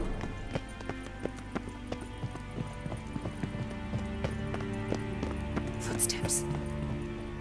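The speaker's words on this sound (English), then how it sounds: "Footsteps." Footsteps in the video game The Witcher 3: Wild Hunt form a steady run of rhythmic, clopping steps over continuous game ambience, with voices speaking at times.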